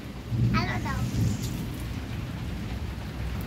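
Heavy rain falls steadily during Cyclone Remal, a dense continuous hiss with low rumbling, and a voice speaks briefly near the start.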